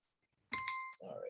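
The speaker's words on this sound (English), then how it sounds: "there's my timer, as you can hear it in the background" A kitchen-style timer beeps in the background, a steady electronic tone lasting about half a second, followed by a brief rustle or voice-like murmur; moderately loud against otherwise quiet surroundings.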